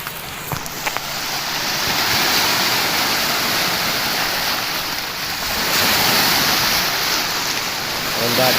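A steady, loud roar of sea waves breaking and washing continuously near a bridge, with a rushing, wind-like hiss throughout and no clear pauses.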